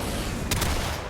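Tigris Prime shotgun firing a body shot in the Warframe video game: one sharp burst near the middle, a doubled crack over a steady loud background of game noise.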